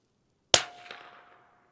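.22 LR rifle fired at a 400-yard target outdoors: a single sharp crack with a short decaying tail fading over about a second, loud and alone.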